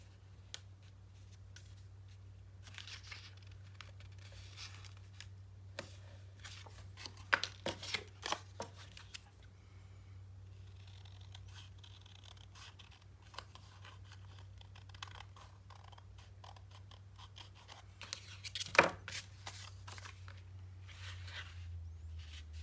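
Paper cut by hand with scissors for a 9 x 9 Nutcracker mini album, faint intermittent snips and scraping over a steady low hum, louder clusters midway and near the end.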